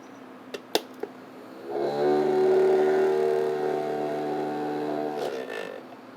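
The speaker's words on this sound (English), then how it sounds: "Thì cái máy đang sử dụng đó gọi là máy spin Thao." A laboratory mini spin centrifuge whirs up after a few sharp clicks, holding a steady tonal hum for several seconds before winding down, close and alone.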